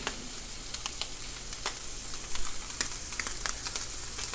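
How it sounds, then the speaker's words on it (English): Already-cooked taco meat filling reheats over a stove burner, giving a close steady sizzle and hiss with scattered crackling pops, fairly loud and alone without talk. "you can stick it right on your burner and get that fired up"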